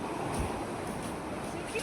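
Large sea waves wash and roar against Shriwardhan beach, a steady broadband rush mixed with wind buffeting the microphone while people talk nearby.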